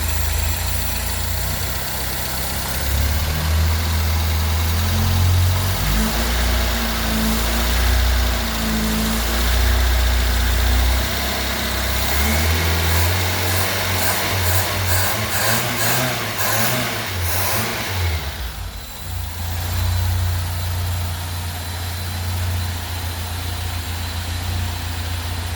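Fiat Uno engine with a Weber 495 TLDF carburetor, loud and close, idling with a low rumble, then revved repeatedly in short bursts before settling back to idle, no talking.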